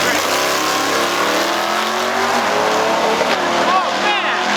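A drift car and an Infiniti G35 drag racing side by side, with a loud, continuous engine roar that rises in pitch as they accelerate hard, heard up close and dominating throughout.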